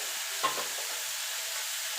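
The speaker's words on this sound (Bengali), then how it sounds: "মিনিট খানিক একটুখানি নাড়াচাড়া করে নেবো" Bottle gourd peels fry on high heat in a pan, a faint, steady hissing sizzle with a single soft stirring knock early on and no talk.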